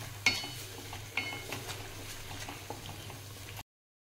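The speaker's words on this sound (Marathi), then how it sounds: "आता हे स्टीलचं भांडं आहे, याच्यामध्ये लागू शकतं, म्हणून आपण असं 5 मिनिटं हलवत राहायचं" Paneer masala gravy stirred in a steel pot, with soft, intermittent spoon scrapes and a low bubbling fry underneath, fairly quiet and close.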